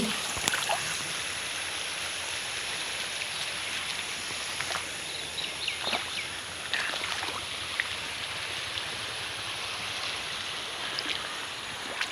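River water flows steadily after rain with a constant rushing murmur, punctuated by small splashes and trickles nearby, no voices.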